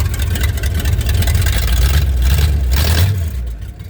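A Pontiac 389 engine idles fast and loud near 3,000 RPM with a steady, heavy rumble, then the revs begin to drop off near the end.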